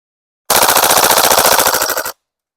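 An HK UMP45 airsoft gas blowback gun fires one loud, rapid full-auto burst of about a second and a half, a dense rattle of snapping shots that cuts off abruptly into silence.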